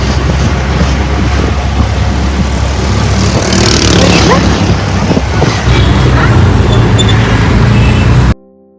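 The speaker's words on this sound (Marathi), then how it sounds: "रस्त्याने ट्रॅफिक असते आणि आवाज रेकॉर्ड होत नाही व्यवस्थित" Heavy road traffic on a crowded Pune street near Tulshibaug, a loud, unbroken roar of engines and passing vehicles close by, cutting off abruptly at the end.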